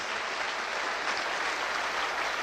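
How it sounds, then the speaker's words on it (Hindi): Dense, sustained audience applause fills a network marketing seminar hall, steady and fairly loud throughout with no voices over it. "इसके लिए जोरदार ताली बजनी चाहिए।"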